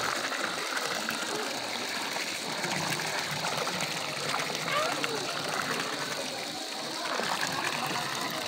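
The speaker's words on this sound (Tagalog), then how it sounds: "Ito ay napakainit na tubig." Hot spring water at a resort in Irosin, Sorsogon, flowing and splashing steadily, a continuous close gush and trickle with a person talking faintly over it.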